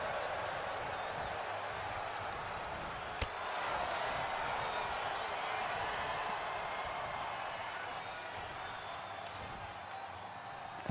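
A wrestling crowd in WWE 2K22 roars steadily throughout, a broad sustained noise with one sharp impact-like thud early on and faint scattered hits.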